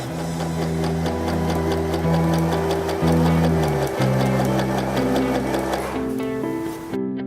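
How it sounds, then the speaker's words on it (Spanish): A Janome 311 sewing machine stitches elastic onto fabric in a steady, loud mechanical whir with a rapid needle rhythm, briefly pausing and changing pitch as it runs, with no talking. "Estiramos y cosemos."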